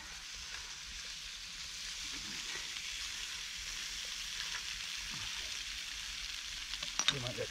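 Sausages frying in a pan outdoors in the woods under a tarp give off a steady, close sizzle and crackle that holds throughout, with a few sharper pops and clinks near the end and no talking.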